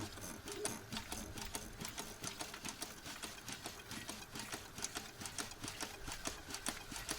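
An old ZIL crane truck engine, standing idle for twenty years before this restart, runs with a fast, even train of knocking pulses about four times a second. It is faint and steady, with no clear talk.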